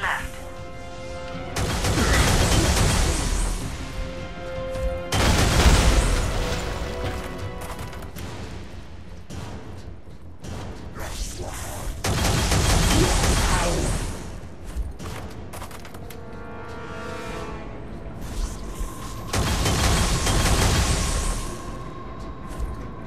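Explosions in the Alien Rage first-person shooter game: several heavy booming blasts swell and fade at intervals over a continuous rumble of gunfire and mechanical game noise, with a voice speaking briefly.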